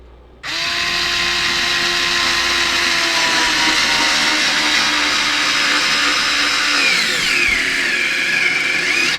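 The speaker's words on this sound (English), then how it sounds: "it sunk it all the way in and started just stripping the screw" A powerful cordless drill whirs up loudly and holds a steady high whine for about nine seconds, driving a screw all the way in; the pitch then wavers and drops slightly as the bit starts stripping the screw head.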